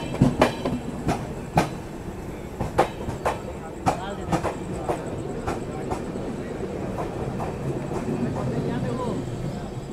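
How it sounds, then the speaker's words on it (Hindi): The Chambal Express runs alongside through the Mughalsarai rail yard at night, its wheels beating out sharp, irregular clicks over joints before settling into a steady rolling rumble, with voices in the background. "तो हमें पैरेलल ओवरटेक कर रही है मुगलसराय यार्ड में चंबल एक्सप्रेस।"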